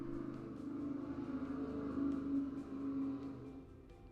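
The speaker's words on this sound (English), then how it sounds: "Wow, noisy car." A noisy car passing outside, heard indoors as a low droning engine hum that swells gradually toward the middle and then fades away, moderately faint.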